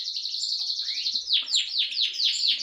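A Lutino goldfinch hen chirps close by, a thin high trill that turns into a run of five or six quick, sweeping, downward-slurred notes in a steady rhythm.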